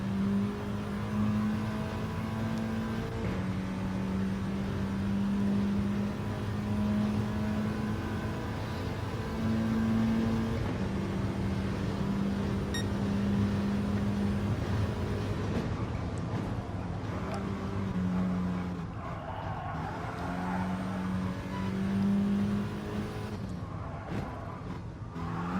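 Onboard engine of a Volkswagen Scirocco race car lapping the Goodwood circuit in a racing video game, a loud continuous drone that steps up and down through gear changes and revs, with tyre noise and no talk.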